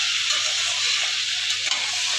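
A short, continuous sizzle of masala being stir-fried in a pan for a bhola fish and potato curry, close and even, with faint stirring underneath.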